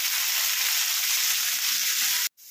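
Cucumber pieces and tamarind sizzling in a pan for a cucumber chutney, a loud, dense, even hiss of frying that cuts off abruptly near the end.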